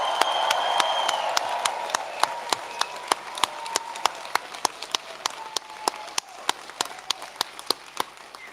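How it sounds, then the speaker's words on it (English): Graduation ceremony audience cheering and applauding for family and loved ones, a dense wash of clapping and whoops with sharp individual claps cracking out close and loud over the steady roar. "give your family and loved ones a huge round of a cheer"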